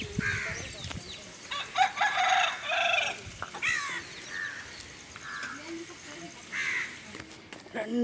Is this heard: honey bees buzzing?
no